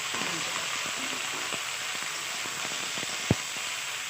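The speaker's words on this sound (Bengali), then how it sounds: "একসাথে ভেজে দিয়ে দিচ্ছি" Ridge gourd, prawns and tomato fry together in hot oil in a Bengali home kitchen, a steady close sizzle with faint stirring clicks and one sharp tap on the pan.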